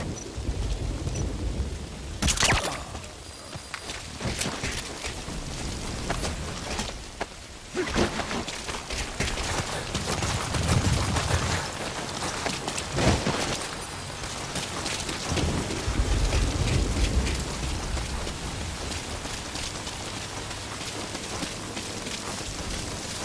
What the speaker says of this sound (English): Rain just won't let up.